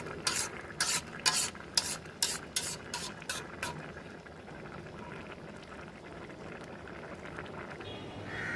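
Spiced mutton fat ghugni is stirred in a pan, with a run of quick, close scraping strokes at the start that give way to a steady low bubbling and simmer.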